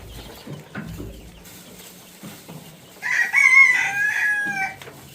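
Chickens at a poultry farm cluck softly with scattered knocks and rustles, then a rooster crows loudly and close in the last two seconds, with no voices heard.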